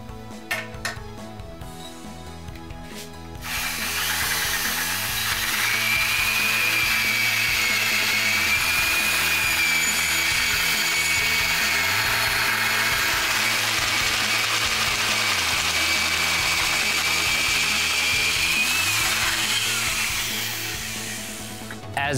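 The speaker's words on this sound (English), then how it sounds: "When we achieve that center line of the tubing with the center line of the hole saw, we will be able to notch our first 45 degree cut." A hole saw cuts a 45-degree notch into steel tubing held in a jig, a loud, steady grinding whine that holds for about twenty seconds after a quieter start, with a faint whistling tone riding on top.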